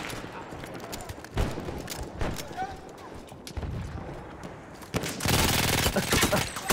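Gunfire crackles in the video game Battlefield 1 as rapid bursts and single shots, loud near the end, while players talk over the fighting.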